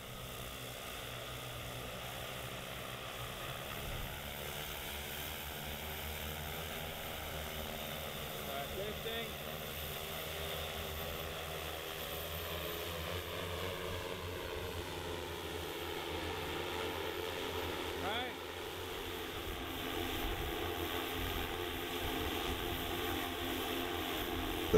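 Multirotor drone hovering during a slung payload drag test, a steady, droning rotor hum at moderate distance that holds constant throughout with slight pitch shifts.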